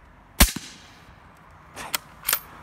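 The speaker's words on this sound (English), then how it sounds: "I'm gonna say the sound of the bullet hitting the berm back there is louder than the report from the muzzle." A suppressed .308 rifle fires once with a sharp, close crack, followed over a second later by a pair of duller thuds from the bullet striking a dirt berm downrange, all without speech.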